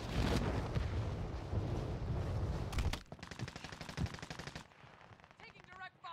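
Loud, sustained automatic gunfire from the video game Call of Duty: Warzone, a dense roaring burst followed by rapid, evenly spaced shots that thin out toward the end.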